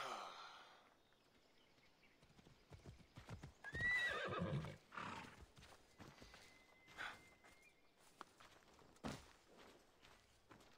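Hooves clip-clop at a brisk pace while a horse whinnies and snorts in the video game Assassin's Creed Odyssey, with a few muffled voices faintly in the background.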